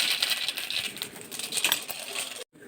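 Mustard seeds splutter in hot sesame oil in a pan, a steady close crackle of dense tiny pops that ends abruptly.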